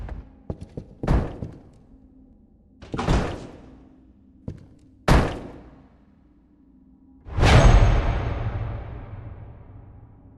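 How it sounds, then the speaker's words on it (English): Banging from a haunted cabinet door in the horror video game White Day 2: several loud, separate thumps and slams spaced a second or two apart, ending in a heavy bang with a lingering rumble, over a low ambient drone. "all you hear is this banging noise until you look around and you happen to find a cabinet"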